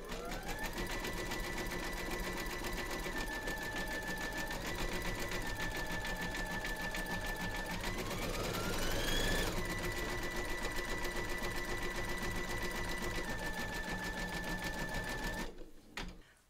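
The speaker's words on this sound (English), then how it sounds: "We're now going to stitch round number five, and that's going to zigzag around here, here and here" A sewing machine runs steadily at close range while zigzag stitching a large surfing Santa piece, with a brief shift in pace midway before it stops at the end.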